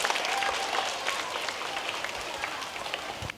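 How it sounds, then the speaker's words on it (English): An audience claps for a child at a fishing talk, a dense burst of applause from many hands that stays fairly steady and moderately close before thinning slightly at the end. "Give him another big clap."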